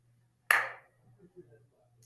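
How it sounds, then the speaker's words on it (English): A single sharp hand clap rings out near and fairly loud at one moment, followed by a quiet room murmur, with the start of a second clap at the very end, during a 2nd grade movement lesson. "Clap."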